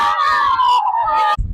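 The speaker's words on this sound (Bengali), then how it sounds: "তো সবাই একটা হাততালি হয়ে যাক" Young boys at a river bank after a greased banana-tree walking contest let out a loud, sustained cheer together, ending in a brief burst of noise.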